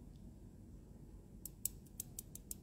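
Stone brooch beads clacking together in a series of about six quick, sharp clicks over a quiet background, tapped to show they are stone rather than plastic.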